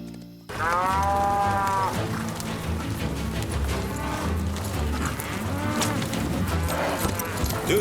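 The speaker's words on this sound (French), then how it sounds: "Devez-vous vraiment noter le nombre de vaches que nous conduisons au marché au bétail de Monterey" Herd of cattle mooing as they are driven to market at Monterey, with repeated low bellows rising over a dense, busy background of other noise throughout.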